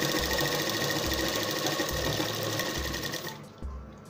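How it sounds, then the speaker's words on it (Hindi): A sewing machine stitches fabric for a pair of shorts, its steady, rapid motor whir running continuously at close range, then easing off near the end. "इस पे भी ऐसे ही सिलाई लगा लेंगे आसन पे"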